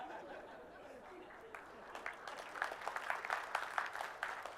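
Scattered applause from a conference audience at a Scrum gathering in Hyderabad, building from faint sparse claps into a fuller round of clapping, moderately distant in a hall, with a hint of light laughter.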